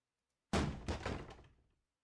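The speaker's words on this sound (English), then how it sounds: "Jay kicks the door hard, smashing a hole straight through it." A door kicked hard and smashed through in the video game Reverse: 1999, a sudden heavy thud followed by a second crunching impact and splintering rattle that fades out over about a second, with no talking.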